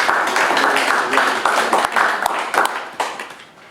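Brief scattered clapping from a few people at a township council meeting, quick uneven hand claps fading out after a few seconds.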